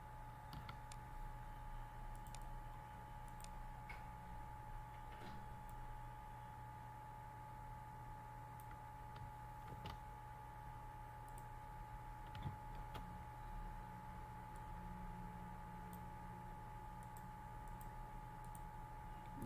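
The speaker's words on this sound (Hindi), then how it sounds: "इसके बाद मैं कुछ पैराग्राफ टाइप कर लेता हूँ।" Soft, steady clicking of keys as paragraphs are typed on a computer keyboard into a Microsoft Word document, faint and continuous with occasional sharper taps and no talking.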